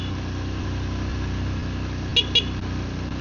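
Two short, high horn beeps sound from a vehicle, likely a Suzuki V-Strom 160 motorcycle, on a steep blind mountain curve, over a steady idling engine hum.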